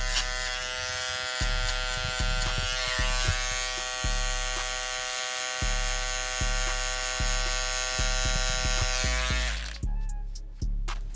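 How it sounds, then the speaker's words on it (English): An electric hair trimmer buzzes steadily up close, cutting a burst fade, with a bright, constant hum that shifts slightly as it moves, then cuts off near the end. "I'll be using my trimmer just to go more skin on the bottom"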